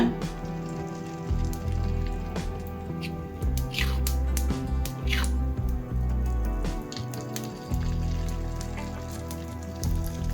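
Paniyaram batter poured into a hot paniyaram pan produces a soft, crackling sizzle with scattered drip-like pops and a low background hum, continuing for several seconds without speech.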